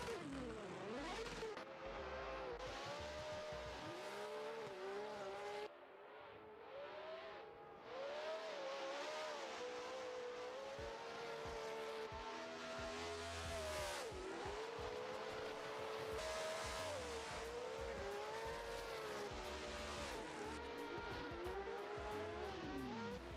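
Race cars on a warm-up lap at Tokachi International Speedway in Japan, engines rising and falling in pitch as they pass, with a brief lull midway and continuous distant motor drone.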